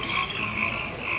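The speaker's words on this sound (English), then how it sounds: "we're going through the forest with frogs and crickets" Frogs croak in a continuous chorus along the forest section of a ride at Universal Studios, a steady, moderately loud layered trill with no talking.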